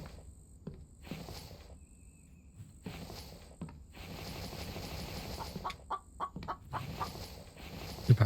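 Chickens cluck in the video game The Infected, a few scattered bursts over a steady ambient bed with faint mechanical clicks, no talking.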